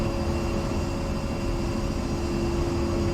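An A-10C Warthog jet in DCS World drones with a steady, even engine roar and a faint high whine, continuous and fairly loud with no talking.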